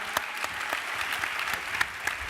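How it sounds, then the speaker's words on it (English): A summit audience gives the panel a burst of applause after a food-focused session, a thick wash of clapping with a few sharper nearby hand strikes, heard on its own. "Huge round of applause for the panel."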